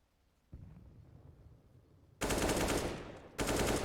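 A bomb blows up in the competitive video game Counter-Strike: Global Offensive, heard as a sudden loud roaring blast that rumbles and fades before a second heavy burst hits; game ambience runs quietly before the blast.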